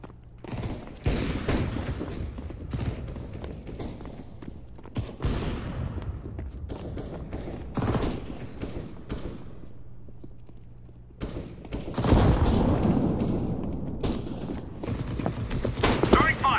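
Repeated bursts of CS:GO decoy grenade gunfire crackle in uneven volleys, with loud thuds and background game noise between the shots.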